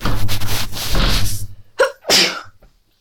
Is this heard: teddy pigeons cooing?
no